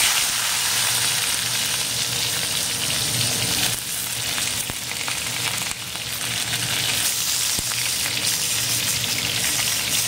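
Eggplant and tomato fry together in hot oil with nigella seeds, giving a steady, dense, close sizzle that runs unbroken, with a few faint clicks and knocks beneath it.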